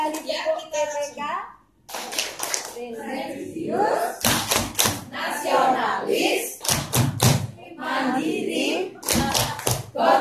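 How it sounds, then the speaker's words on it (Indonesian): A group of schoolchildren in a classroom training session claps hands in rhythmic bursts, sharp loud thuds alternating with chanted speech as the children recite together. "Dua kali tepuk mereka."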